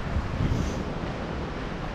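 A Yosemite waterfall roars steadily from close range on the rocks beside it, a dense continuous rush of water mixed with wind buffeting the microphone.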